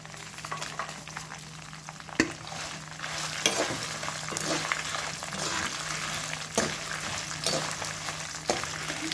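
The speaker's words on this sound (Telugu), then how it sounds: "ఎంత బాగా వేయించుకుంటే అంత బాగుంటుందండి పచ్చడి" Dried red chillies frying in oil for a curry leaf pickle, a steady close sizzle broken by scraping clicks of stirring, with no speech.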